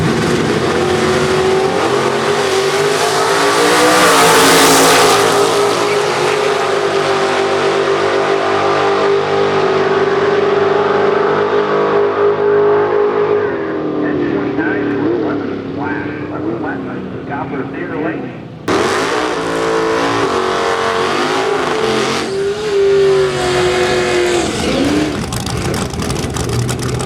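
Nitrous-fed Ford and Chevrolet outlaw street cars race side by side in an elimination round at a drag strip, their engines roaring loud and sustained with rising revs, then a sharp surge of power near the end, while an announcer talks throughout.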